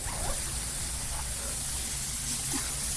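A spray bottle hisses in a steady, continuous mist for a few seconds, close by in a parrot enclosure, with no talking.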